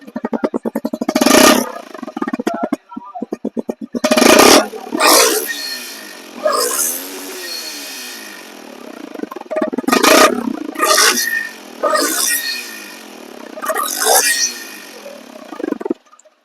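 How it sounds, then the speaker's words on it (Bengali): A Honda X-Blade ABS motorcycle engine runs up close, revving in repeated loud bursts that rise and fall, with a voice talking over it at times. "এই বাইকটি আপনাদের লাইভে থেকে এই বাইকটি স্টার্ট অবস্থায় আপনাদেরকে দেখাবো"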